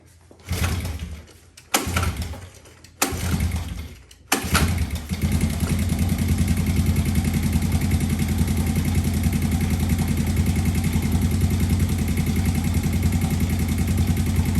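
A 1996 Honda TRX90 ATV engine cranks in several short bursts after brake cleaner spray, then catches and settles into a steady, loud idle for the remaining seconds.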